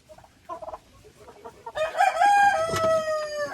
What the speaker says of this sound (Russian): Вот эта курочка, вот она, снесла вот это яйцо.